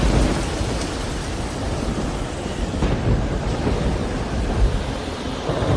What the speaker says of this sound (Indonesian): Sambil terombang-ambing oleh ganasnya ombak dan hujan badai di lautan, Chuck pun berusaha